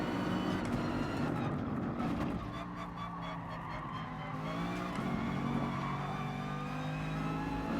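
A Lamborghini race car in GT Sport drives during a manufacturer test race, its engine roaring continuously with shifting pitch and tire noise, other cars audible in the mix.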